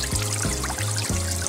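Water pouring into a newly built garden pond from a running pump: a steady close splashing rush with a low gurgling pulse repeating roughly every third of a second, loud and continuous.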